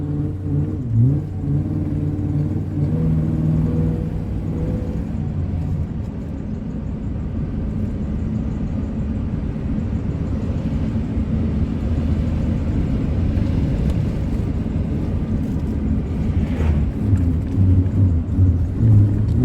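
A car engine drones and rumbles under strain while driving, holding a low, loud, steady growl with slight rises in pitch, no speech.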